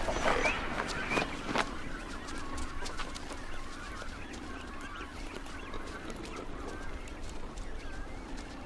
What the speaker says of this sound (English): Hungry cormorants and reef herons wait until chicks are being fed